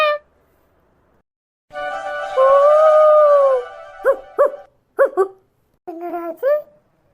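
A dog howling and yelping in a rural Tamil village, one long drawn-out howl followed by several short yips and whines, close and loud, with quiet stretches between.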